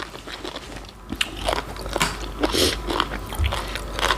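Someone bites and chews crispy fried pork belly with spicy Thai food, giving a series of close, crunchy bites and chewing sounds at irregular intervals with no talking.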